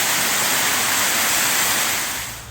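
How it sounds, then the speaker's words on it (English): Steady roaring rush of a waterfall, broad and constant white-noise cascade, loud and close, fading slightly at the end. "Here's the second waterfall."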